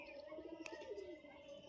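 A pigeon at a pigeon loft gives a brief soft coo or call, faint and somewhat distant over quiet background, with one short sharp click near the middle.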